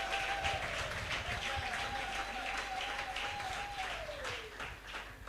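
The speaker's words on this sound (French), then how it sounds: "Quelqu'un peut acclamer encore très fort." A church congregation breaks into loud, sustained applause and cheering filling the room, a continuous crowd roar that holds steady and then eases slightly toward the end, with a sung or sustained voice tone running beneath it.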